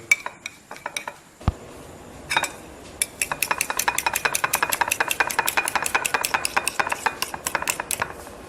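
Black pepper stirred into an egg and potato dish in a metal pot, a spoon scraping and clinking against the sides in a quick, steady run of close, loud strokes after a few scattered knocks.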